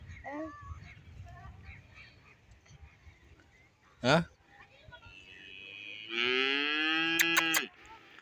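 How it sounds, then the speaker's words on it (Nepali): A cow lets out one long, loud, drawn-out moo close by on a farm, after a stretch of quieter voices and a sharp brief knock or honk. "कसरी कराएको थियो त्यो गाईले"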